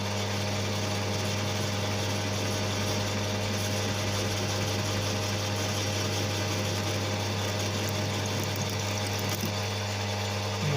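A lathe tool trims a BSA Bantam sprocket spacer sleeve, a constant loud mechanical whir and hum holding steady throughout without a break.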